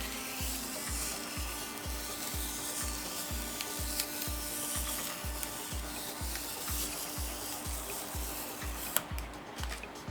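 A thermocol cutting machine slices through foam, giving a steady rhythmic low pulsing hum with a soft rubbing, rasping texture on top, close and continuous.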